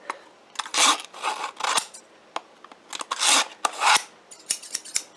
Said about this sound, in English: You just put your scissors inside the slots and then act like you're cutting.